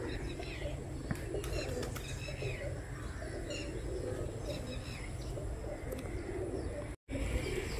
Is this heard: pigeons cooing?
yes